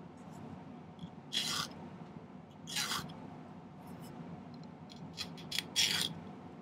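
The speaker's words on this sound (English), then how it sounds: "I'm going to file it, you know, at a 45 degree angle like that, about halfway through." Metal file rasping across silver wire at a 45-degree angle while making post earrings, heard as a few separate short strokes, close and moderately loud, over a low steady room hum.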